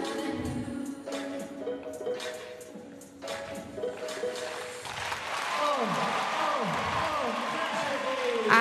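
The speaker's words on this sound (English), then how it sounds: "the crowd going to be clapping her along" An arena audience at an indoor dressage World Cup event claps rhythmically along with a horse's routine, the applause growing fuller and louder toward the end beneath live commentary.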